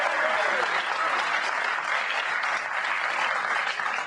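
An audience bursts into steady, dense applause after a juggler fumbles his clubs during a live performance, the clapping sustained and fairly loud throughout without a break.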